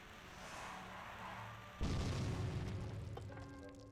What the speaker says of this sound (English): the explosion hasn't left even a single scratch on the stone